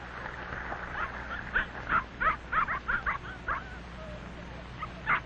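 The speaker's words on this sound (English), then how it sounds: "A big red setter is running toward them." A big red setter barks in a run of short, moderately distant woofs and yips, with quiet gaps between them.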